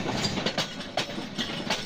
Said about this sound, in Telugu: ట్రైన్లో ప్రయాణించినప్పుడు ఇలాంటి సౌండ్ కనుక వస్తే